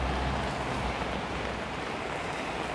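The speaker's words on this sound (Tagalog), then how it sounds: "Yan, bigla na rin lumakas yung ulan." Heavy rain pours down on a city street near a hotel, a loud, dense, steady hiss without a break throughout.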